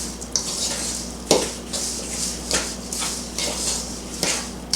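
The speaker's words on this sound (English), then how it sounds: "I'm going to add the breadcrumbs, the egg, mix those around" Ground meat is mixed with breadcrumbs and egg in a bowl, with repeated clinks and scrapes of a utensil against the dish in an irregular rhythm, close and fairly loud.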